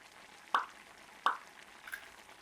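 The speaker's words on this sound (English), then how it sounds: "start cracking the eggs" Two sharp cracks a moment apart, then a softer third, as eggs are broken into a pan of simmering tomato sauce; close and clear over a quiet background hiss.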